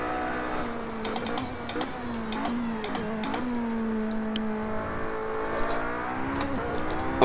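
Race car engine in a VR racing video game, a steady whining tone that dips and rises under braking and acceleration, heard alone at moderate level.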